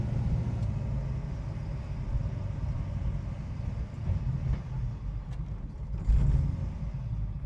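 1970 Dodge Charger with a swapped 426 Gen 3 HEMI engine driving, a deep steady rumble heard from inside the car with slight swells as the clutch is worked.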